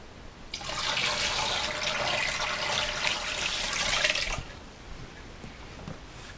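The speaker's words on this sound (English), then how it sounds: "pour the water and the bloodworm into the aquarium net" Water and bloodworm pour from a bowl into an aquarium net, a steady bright splashing rush lasting about four seconds before it cuts off to quiet.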